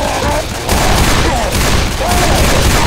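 Gunfire aimed at the Tank in the Left 4 Dead 2 video game: dense, loud automatic bursts crackle without pause, with a brief dip before the shooting resumes and short shouted voices woven through the barrage.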